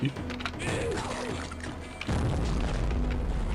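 An explosion in the video game Shadow Warrior, a sudden deep boom that swells and lingers as a heavy low rumble, with faint game clicks before it.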